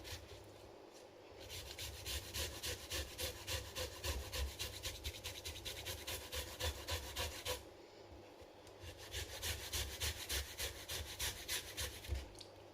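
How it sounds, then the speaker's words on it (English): Fresh ginger being grated by hand in a home kitchen, with steady rhythmic rasping strokes close by, two bursts separated by a brief pause, no talk. "So that's the ginger grated."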